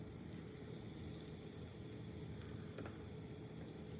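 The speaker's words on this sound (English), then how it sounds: "we're going to add our onions" Onions frying in butter in a hot pan give a steady, soft, even sizzle that carries on alone without a break, low in level.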